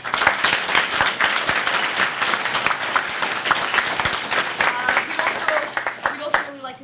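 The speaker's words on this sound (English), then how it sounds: "Thank you, round of applause." A debate-final audience gives dense, sustained applause, with many hands clapping loudly and continuously before the clapping thins near the end.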